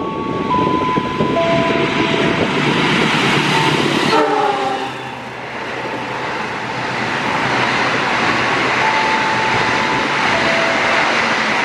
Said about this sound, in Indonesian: jalur satunya akan melintas kereta api Gaya Baru Malam Selatan